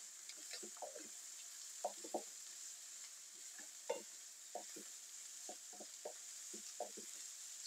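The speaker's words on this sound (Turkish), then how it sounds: "yeşil ve kapya biberimizi ve sarımsağımızı ilave ediyoruz" Green and red peppers with garlic frying in a pan, a steady soft sizzle broken by scattered scraping stirs, close and moderately loud with no talking.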